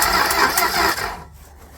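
A 1968 Dodge Coronet, sitting for 44 years after Mount Saint Helens, cranks on its starter in a short loud burst of rhythmic churning that cuts off after about a second, leaving quiet.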